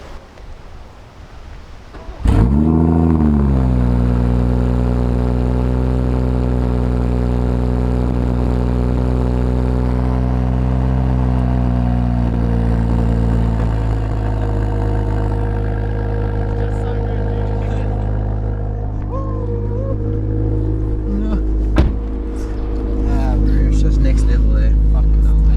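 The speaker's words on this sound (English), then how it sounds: "let's turn this beast on and let's hear how the exhaust sounds" BMW M140i engine cranks and fires with a sharp burst, revs briefly, then settles into a steady, deep exhaust idle close by, with a few blips and quiet speech near the end.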